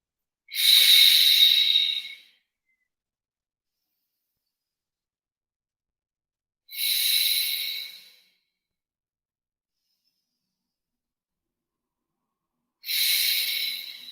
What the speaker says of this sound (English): let's take 4 deep inhales, 4 deep exhales, please